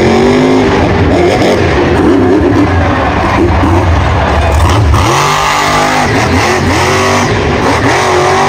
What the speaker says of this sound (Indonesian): Ini adalah mobil monster